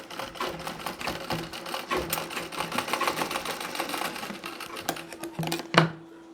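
A sewing machine runs steadily, stitching a chain onto a nauvari saree, with a dense, fast mechanical clatter that continues for several seconds before a sharp knock near the end.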